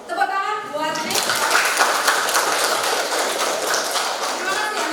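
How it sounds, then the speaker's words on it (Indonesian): A classroom group claps for a student after her presentation: a dense, sustained burst of applause that starts sharply and continues steadily, with voices mixed in. "Tepuk tangan buat Nesa"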